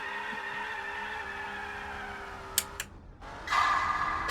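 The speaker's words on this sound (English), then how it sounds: "they didn't do it justice with the engine sound though, unfortunately. Yeah, I love V10 engines." Dodge Viper V10 engine in the Gran Turismo 4 racing game, a steady droning engine note held throughout, with a few sharp clicks and a brief dip before the sound swells again.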